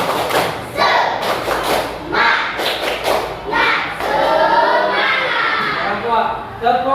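Group at a school teacher-training activity doing rhythmic spirit clapping in patterned bursts of claps and thumps, mixed with excited children's voices and chatter between the bursts.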